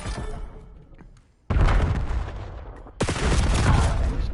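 Gunfire in a competitive shooter video game match, loud bursts of automatic fire in dense blocks with impacts and booms, cutting in abruptly and layered over game noise.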